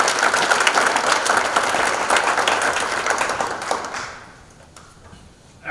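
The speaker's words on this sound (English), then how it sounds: "a round of applause." Audience at the Fruitport Hall of Fame 2023 ceremony gives a round of applause, dense steady clapping from many hands in a hall that fades out after about four seconds, leaving near quiet before a voice begins.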